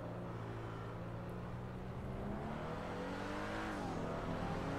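A turbocharged Hyundai Veloster in GTA V accelerates hard, its engine note climbing steadily through the gears with a rising harmonic whine and a brief dip near the end, loud and continuous without talk.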